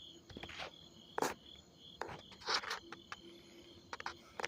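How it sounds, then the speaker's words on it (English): Crickets chirp steadily at night in an outdoor setting near Newport News, a faint continuous trill running under scattered nearby footsteps and rustling noises. "Lots of crickets"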